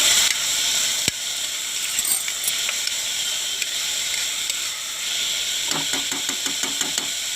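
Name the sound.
onions frying in hot oil in a pressure cooker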